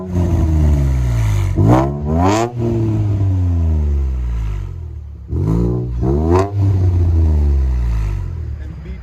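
A 2017 Infiniti Q50 S with a 3.0L twin-turbo V6 and MBRP cat-back dual exhaust revs twice from idle, each rev rising sharply then falling back to a loud, deep, close rumble.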